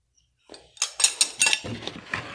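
A knife and teaspoon from a cutlery set clink and tap together in several bright, close metallic hits. The rattling comes in quick uneven bursts after a short silence.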